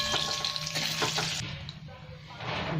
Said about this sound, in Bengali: গোটা জিরে দিয়ে দিলাম। এটা একটু ভাজা হবে